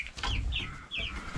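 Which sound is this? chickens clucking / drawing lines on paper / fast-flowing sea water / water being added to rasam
chickens clucking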